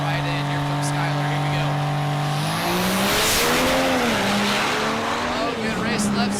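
Pro Street drag racing trucks launch down a drag strip at an NHRDA event. A loud, close engine roar climbs in pitch through the gears, with a rushing hiss of tire and exhaust noise.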